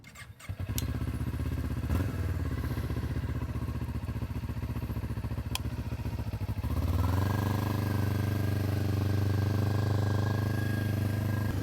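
A Kawasaki Ninja 400 motorcycle, set up for commuting, cranks and fires, then idles steadily and close up, its engine note rising to a fuller, louder run partway through.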